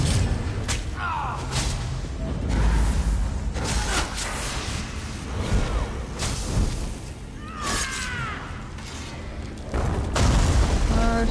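Repeated loud booms and thuds from explosions in a PS4 video game burst out at irregular intervals, with whooshing debris and rumbling filling the gaps between blasts.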